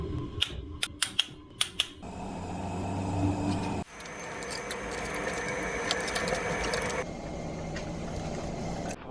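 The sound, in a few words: ratchet wrench angle-tightening a bolt on a Land Rover TDV6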